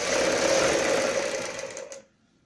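A sewing machine runs steadily, stitching a folded frill strip onto a kurti sleeve, a loud close mechanical whir that slows and cuts off near the end.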